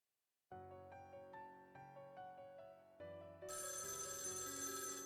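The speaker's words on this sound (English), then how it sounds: "Oh, the phone is ringing again." A telephone rings in the video game Death Mark, its electronic chime repeating in steady bursts before swelling into a louder, brighter ring, with no other sounds around it.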